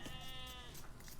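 Sheep in the video game Age of Empires 2 giving a single short bleat, faint over a low background of game noise.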